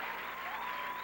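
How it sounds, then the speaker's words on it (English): A studio audience at a Match Game taping applauds to welcome Loni Anderson, a steady, dense wash of clapping that holds at even strength for its whole short length, with a faint tonal whine running underneath. "you will all applaud politely and welcome very warmly Loni Anderson"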